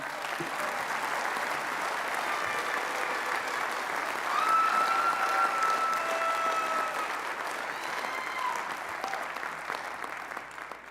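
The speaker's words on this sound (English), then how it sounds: "let's give a big round of applause for James McLean." Sustained applause from a large audience, steady clapping throughout with a brief high whistle cutting through midway.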